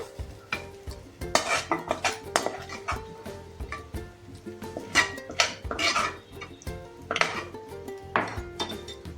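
Cooked pieces, bottle gourd for a biryani, get shifted around in a metal pot with a utensil, giving repeated close scraping and clinking strokes in an uneven rhythm, with faint sizzling between them.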